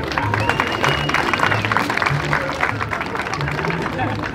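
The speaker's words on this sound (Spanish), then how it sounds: "Un aplauso para la señora." Dense audience applause at a live Mexican comedy show, a steady crackle of many hands lasting several seconds, with voices talking loudly over it.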